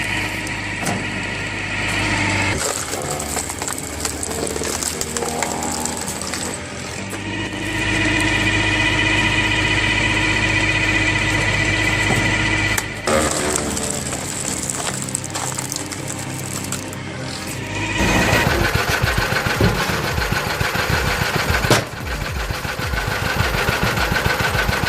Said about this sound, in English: This homemade kinetic log splitter, powered by a Lister D engine, is a strong example of practical innovation.